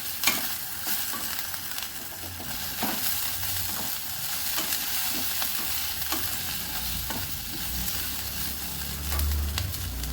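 Okra stirred in a frying pan with red chili powder just added, a steady oily sizzle with scraping spatula strokes throughout, close and fairly loud, no voices.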